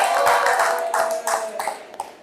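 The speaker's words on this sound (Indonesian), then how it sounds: "tepuk tangan untuk kelompok" A classroom group gives applause, a short scattering of hand claps in several uneven bursts that fade toward the end, fairly near and moderately loud with a faint steady tone beneath.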